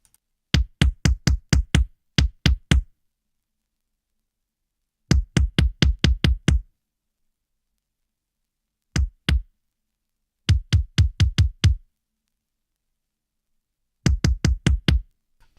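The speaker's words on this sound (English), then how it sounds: "I'm like trying to make a like kind of more vintage, sounds like it came out of a drum machine kind of kick" Vintage drum-machine-style kick drum loop, unprocessed, playing dry thumping hits in tight bursts of several beats separated by silent gaps, alone and clear.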